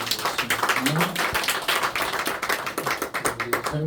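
Congregation clapping during a Sunday church service, rhythmic close claps mixed with voices and some chatter throughout.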